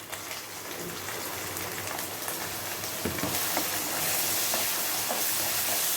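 Chopped tomato hitting a hot pan of kodo millet khichdi brings a steady, broad sizzling hiss that carries on without a break, close and even, with a few faint clicks and no talk.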